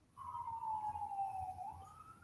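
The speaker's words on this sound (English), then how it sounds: "I hear sirens." A single emergency vehicle siren wails in a steady, slowly falling tone, faint and distant, heard alone without speech.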